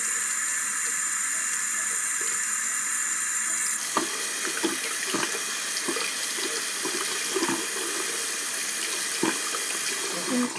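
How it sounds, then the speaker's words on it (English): Tap water runs steadily into a sink during handwashing, a continuous close hiss with small splashes and clinks once the hands move under the stream. Nobody speaks. "I wash my hands."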